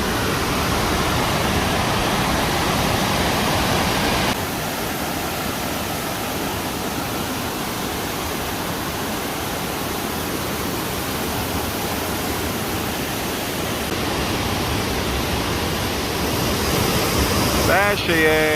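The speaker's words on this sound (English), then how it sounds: "Found a waterfall." A waterfall roars as a loud, steady broadband rush that fills the whole stretch, close by and unbroken, with a brief faint voice near the end.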